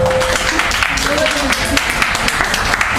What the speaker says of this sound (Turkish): Alkışlayalım, moral alalım.